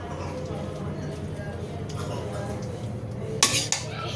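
Plates and dishes clatter faintly beneath a steady background hum, ending in a few sharper clinks of crockery being set down.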